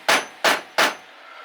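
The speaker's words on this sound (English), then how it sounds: "Let's smack it with a hammer." A hammer strikes a metal wrench three times, steady and close, each a sharp clang with a short ring, in a workshop during repair of a Homelite Super XL925 chainsaw engine.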